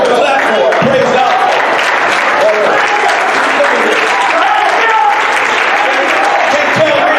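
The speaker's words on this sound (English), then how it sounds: "Clap for it." Church congregation at a worship service clapping steadily and loudly for several seconds, with shouting and voices mixed into the sustained applause.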